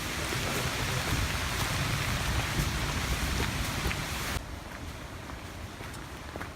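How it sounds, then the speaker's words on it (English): Steady rain falls in the woods with a dense, even hiss. It softens abruptly partway through, and no distinct thunder stands out. "Here in the woods, it's raining."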